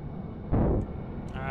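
An aircraft's engine three cranking in the Stormworks game: a steady low drone is broken by a heavy rumbling surge, followed by a rising, whining spool-up tone near the end.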